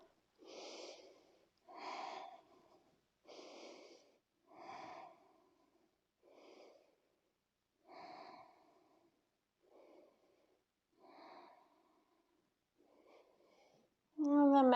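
Slow, deep breaths during an aerial yoga class, about ten soft rhythmic inhales and exhales spaced a second or so apart, quiet and close, ending with a short louder sound.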